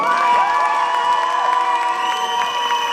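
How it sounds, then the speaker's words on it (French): An audience at a cosplay contest in Lorient cheers and whoops loudly throughout, a dense crowd roar with children's high shouts on top and scattered clapping underneath. "Et ça, je pense que ça s'applaudit très très très fort."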